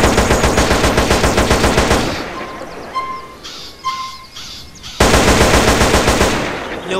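Rapid automatic AK-47 Leopardo fire in GTA San Andreas, loud sustained bursts at the start and end with a quieter gap of scattered ambient chirps and tones between them.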